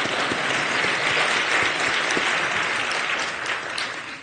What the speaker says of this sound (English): yeah, we can clap for the Enoch Pratt